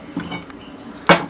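A metal kadai is set down on a stove top, making a couple of short, close clanks and scrapes of cookware in a quiet kitchen.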